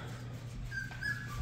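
Young puppies whimpering softly, a few faint high whines rising over a steady low background hum, close by with no talking.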